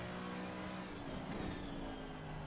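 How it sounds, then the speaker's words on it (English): A race car in a sim racing game at the Zolder circuit, its engine holding a steady, sustained drone from the cockpit with a slight rise in pitch, with no talking heard. "Okay, car leaving the pit lane, so I gotta watch out with that."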